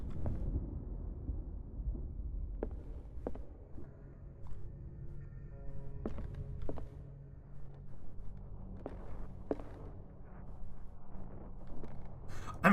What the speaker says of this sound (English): That's some weird sounding thunder.